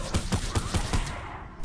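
Rapid gunfire from the video game Fortnite: about five quick shots in a steady rhythm, moderately loud, followed by a fading tail.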